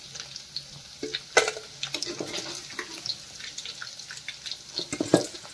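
Paneer frying in a pan for paneer masala curry, a crackling sizzle broken by scattered sharp pops and a few scraping clatters, close and steady with no talking.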